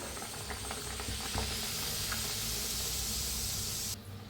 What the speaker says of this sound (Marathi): सगळं असंच तळून घेऊया.